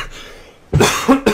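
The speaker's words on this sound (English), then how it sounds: "Coughing for no reason." Two close coughs from a man, sharp and fairly loud, heard over quiet game audio during a Skyrim playthrough at Old Hroldan Inn.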